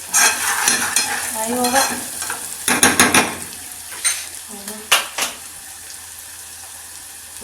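Onions sizzle in a pan with lemon juice and a dash of vinegar while a utensil stirs and scrapes, making irregular clattering bursts over a steady frying hiss; a voice briefly speaks.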